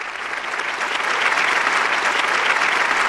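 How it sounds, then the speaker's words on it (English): Continuous applause rising from a moderate start to a full, even roar of clapping that holds steady, dense and close, with no voices over it. "Give you a round of applause."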